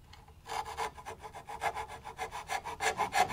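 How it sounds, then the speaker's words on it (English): A coping saw with a bent, worn blade cuts dovetail waste from wood for an egg holder, steady rhythmic rasping strokes close up, about a dozen quick back-and-forth pulls after a brief quiet start. "This coping saw needs a new blade."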